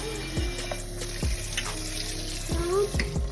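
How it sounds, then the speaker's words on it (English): Vegetables being swished and rinsed by hand in water in a home kitchen sink, giving soft sloshing and splashing with a few distinct splashes over a steady running-water background. "you just take some water around them, move it around with your hand just to get all of the film and residue off"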